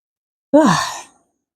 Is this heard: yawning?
yes